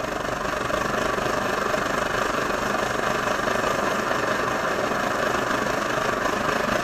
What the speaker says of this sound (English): I like to go ahead and start the stove and let it fire up